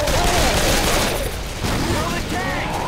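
Dense, continuous gunfire in Left 4 Dead 2 is poured at the Tank, loud and sustained, with excited voices shouting over the shooting.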